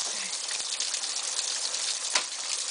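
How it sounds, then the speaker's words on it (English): Water falls from the partly unfrozen section of an ice-climbing waterfall, making a steady close gushing hiss that splashes throughout without a break. "There is some water falling down here."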